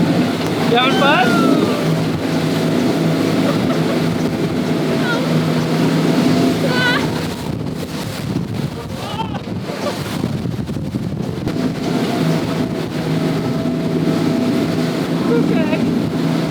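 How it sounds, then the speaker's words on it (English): A private water taxi motorboat roars steadily across a choppy channel between St. Thomas and Virgin Gorda, with engine drone, wind buffeting and splashing waves, while voices talk faintly under the noise. "now we're on a private water taxi from St. Thomas to Virgin Gorda BVIs"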